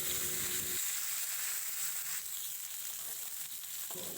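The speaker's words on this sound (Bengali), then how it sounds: "বাকি যে মাছগুলো আছে একইভাবে কড়াইতে দিয়ে তারপরে ভেজে নামিয়ে নেব" Fish sizzling in hot oil in a kadai, a dense, steady frying hiss that carries on alone, with a lower bubbling layer dropping away after the first moment.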